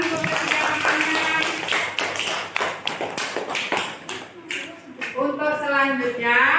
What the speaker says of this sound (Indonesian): tepuk tangan untuk persiapannya